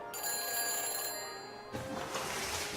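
A phone helmet in the Back to the Future video game rings after a number is dialed, a bright electronic ring tone that holds for over a second before giving way to a softer hiss.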